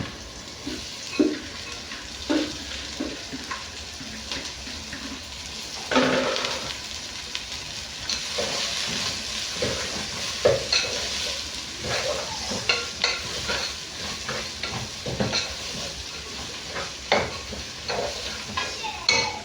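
Purple cabbage frying in a hot pan with onion and spices while being stirred, a steady sizzle broken by scraping strokes of the spoon, close and clear, no talk.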